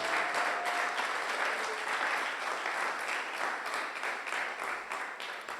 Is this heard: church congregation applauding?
yes